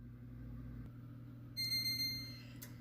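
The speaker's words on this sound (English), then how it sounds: "timer's gone off" A kitchen timer goes off while a braided cinnamon raisin loaf bakes, giving a short run of bright, rapid electronic beeps over a low, steady appliance hum in a quiet kitchen.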